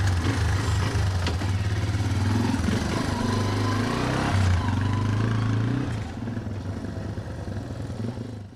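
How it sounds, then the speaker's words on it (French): A motorcycle used as a work vehicle on rural roads, its engine idling with a steady low throbbing rumble and light mechanical clatter, loud and close, easing slightly lower toward the end. "Principal outil de travail de José Tomás, la moto."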